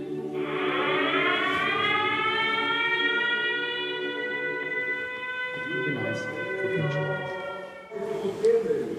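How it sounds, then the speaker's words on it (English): An air raid siren wails with a long, steady, rising tone that holds loud and continuous, while people talk nearby underneath it toward the end. "The air raid sirens have gone off"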